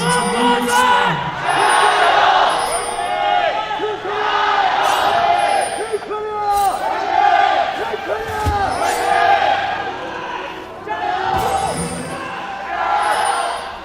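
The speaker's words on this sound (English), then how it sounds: "Seems as though the cheering, the fans are running their voices as ragged as we are" A stadium crowd cheers and roars in repeated swelling waves at a Korea versus China League of Legends final at the Asian Games, loud and close, with commentators talking over it.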